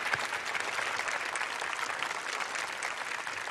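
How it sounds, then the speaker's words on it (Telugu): A studio audience on a Telugu television quiz show bursts into steady, continuous applause, dense clapping that fills the space at an even loudness with no talk over it. "సో అలాంటి వాళ్ళ కోసం అంతా ఒక్కసారి క్లాప్స్"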